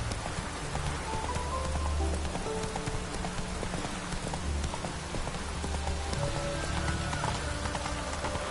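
Steady rainfall in the video game Witcher 3, a continuous hiss of drops on surfaces with hoof clip-clop and movement underneath, even and moderately loud throughout.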